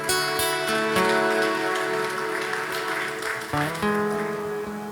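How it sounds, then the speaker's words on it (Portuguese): Loud, sustained congregation applause filling a church during a service, blended with steady sustained musical tones underneath. "Você pode aplaudir Jesus por isso?"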